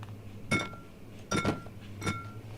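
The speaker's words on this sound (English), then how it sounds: "These books aren't heavy enough to break glass." Three sharp glassy clinks or shatters ring out in the horror video game Amnesia, spaced about a second apart over a low steady hum.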